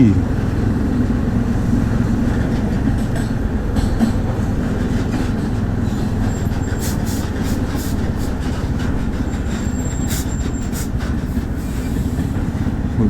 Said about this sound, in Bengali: এদিকে ট্রেন যাচ্ছে